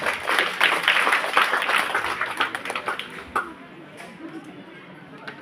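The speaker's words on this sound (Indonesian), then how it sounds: "Tepuk tangan dulu untuk KOR ini." Audience in church applauding the choir, clapping and chatter for about three seconds that thin out into quieter murmuring.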